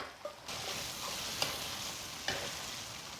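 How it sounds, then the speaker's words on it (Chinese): Duck hearts with chilies, pickled ginger and pickled radish are stir-fried over high heat, a continuous close sizzle with a few sharp scrapes and clanks of the spatula in the wok, no talking. "继续用大火给它翻炒"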